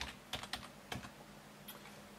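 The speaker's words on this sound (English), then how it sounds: "I'll type in Ethernet." A short run of keystrokes on a computer keyboard, a handful of quiet, uneven clicks with pauses between them, close and alone over a faint room hiss.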